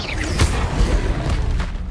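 A Bombarda spell explodes in the game Hogwarts Legacy: a loud, dense, rumbling blast followed by a second, softer burst, all within a couple of seconds.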